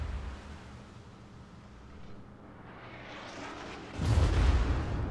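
A British battleship in a naval combat game fires a salvo of HE shells, heard as a rising rumble that swells into a loud, deep boom near the end, with no voices.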